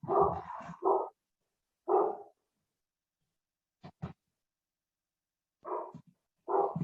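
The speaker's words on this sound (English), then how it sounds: "pardon my dog there" A dog barks in short bursts after a doorbell rings indoors, several sharp woofs separated by pauses of silence, fairly close by.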